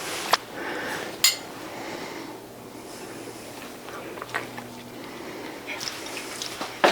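While frosting is taste-tested, a spoon clinks sharply against a bowl a few times, amid soft kitchen clatter and faint running-water-like noise, with no clear talk.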